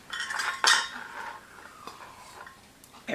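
A utensil scraping and clinking against a bowl while mixing a chocolate squares mixture, with a few sharp metallic knocks among quieter scrapes, close and fairly soft.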